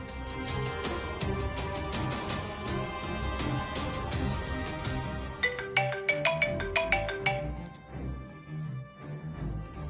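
A phone ringtone plays on a call placed to a father, a repeating melodic tone over busy background music and scuffling, with a burst of sharp tonal pulses near the end.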